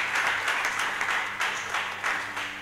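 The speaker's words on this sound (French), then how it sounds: "Acclame Jésus-Christ." Church audience applauding during a sermon, a dense, steady wash of many hands clapping in a large room with rhythmic swells, sustained and fairly loud.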